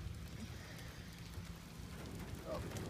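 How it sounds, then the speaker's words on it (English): Steady rain patters on an aluminum RV roof, a dense, even hiss with scattered drop ticks, fairly quiet and continuous with no talking. "It's starting to rain again."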